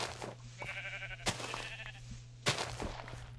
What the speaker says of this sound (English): Well, hello, Mr. Sheep.